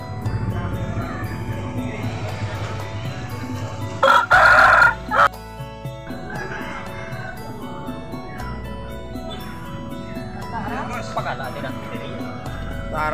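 A rooster crows loudly nearby at a bustling market where chickens are sold, a single strained call rising above steady crowd chatter, with people talking throughout.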